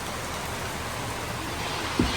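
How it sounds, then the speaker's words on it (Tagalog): Heavy rain pours down in a dense, steady hiss of drops on surfaces, continuous and close, with a brief dull thump near the end. "Grabe guys, ang lakas ng ulan."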